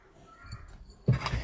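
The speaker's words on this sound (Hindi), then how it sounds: "सॉरी छींक आ गई थी ना" A single sharp sneeze from someone narrating a story, bursting out near the end after a stretch of quiet room noise, close and fairly loud.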